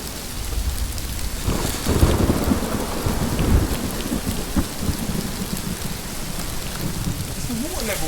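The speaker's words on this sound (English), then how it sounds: "Oh my god, the rain's getting heavier." Heavy rain and a thunderstorm in the video game Rising World: a steady roar of rain with deep thunder rolling through the middle seconds, fairly loud throughout and without talking.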